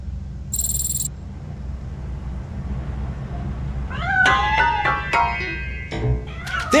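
In the video game RoboCop Rogue City, a cat gives several sharp, close meows in quick succession over a low ambient hum, after a brief tone at the start.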